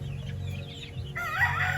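Gamefowl chickens on a game farm clucking and crowing in a steady stream of calls, with a louder burst of crowing near the end; no one speaks.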